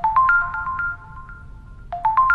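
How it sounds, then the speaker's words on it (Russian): A phone ringtone plays for an incoming call, a bright melodic phrase of rising tones that stops and then starts again, loud and close with no speech over it. "Он мне звонит."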